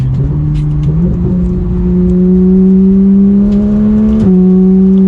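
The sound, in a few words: Porsche 911 GT3 (991) being driven around a turn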